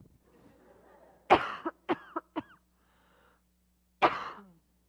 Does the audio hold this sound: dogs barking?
no